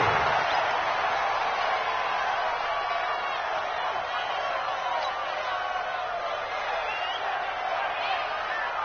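Arrowhead Stadium crowd roar in the Madden 20 football video game, a steady, dense wash of crowd noise lasting throughout, moderately quiet with no speech audible.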